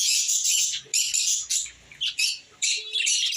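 Birds at a house make bursts of high, shrill chirping and squawking, several short calls in quick succession, close and clear, with no speech.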